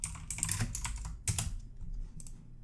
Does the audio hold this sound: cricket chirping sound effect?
no